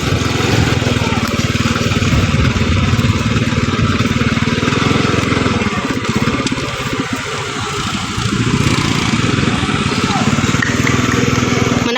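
A motorcycle engine running close by, a loud continuous rough idle that dips briefly partway through and then steadies, with voices faintly mixed in.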